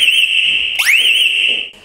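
A camp's automatic fire alarm sounds as a loud, steady high electronic tone, broken briefly by a rising sweep partway through, with no talking.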